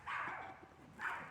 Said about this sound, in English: probably the neighbor dogs